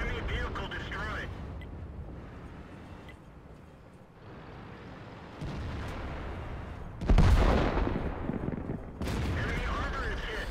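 World of Tanks battle audio: booming tank cannon shots and impacts, with one heavy blast near the middle, over engine rumble while someone talks throughout.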